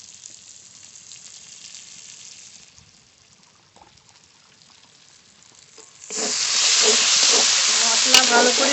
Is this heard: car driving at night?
no